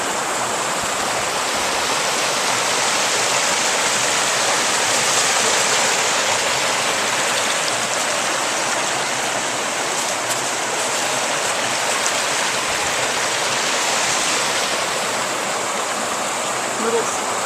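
A creek flows under a bridge at Whiskeytown in January, a steady, full rush of water holding constant throughout without breaks, close and fairly loud.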